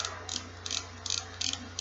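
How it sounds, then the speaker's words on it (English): Four evenly spaced, crisp clicks as the cap is screwed back onto a third-generation Revo SX baitcasting reel, close up over a low steady hum. "once it starts clicking, you know what's on there"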